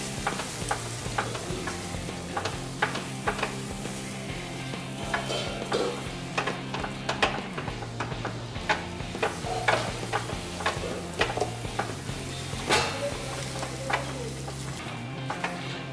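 Semolina mixture being stirred with buttermilk in a pan over a low gas flame, a steady run of scraping, sizzling strokes with soft clicks of the spoon against the pan, close and continuous with no talking.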